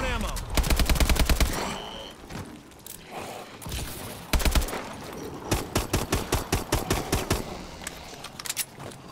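Pistol and other gunfire in the video game Advanced Warfare Exo Zombies, fired in rapid bursts of sharp cracks with short pauses between volleys, loud and close, with a voice talking faintly in places.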